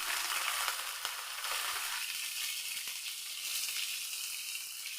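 Ginger and two green chillies hit hot oil in a pan for a semolina breakfast dish, giving a close, steady crackling sizzle that stays bright and continuous throughout.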